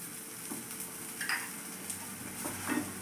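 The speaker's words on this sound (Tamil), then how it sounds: "இப்போ திருப்பிக்கலாம். கொஞ்சமாக எண்ணெய் ஊற்றிக்கிறேன்." Pacha arisi adai made with plain raw ration rice fries in oil after being flipped, producing a faint, steady sizzle with a few light scrapes and clinks from a spatula.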